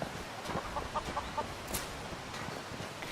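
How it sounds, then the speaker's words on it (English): Chickens in the video game Skyrim cluck softly in a short run of quick clucks, faint and a little distant against quiet ambient game sound. "And chickens."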